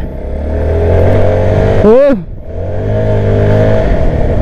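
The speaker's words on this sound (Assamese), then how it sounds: "বাইকখনৰ এক্সাষ্ট চাউণ্ডটো মজা আছে বাৰু" A Keeway K300 N motorcycle engine drones steadily while riding, with a brief rising-falling whine around the middle, then the exhaust hum continues.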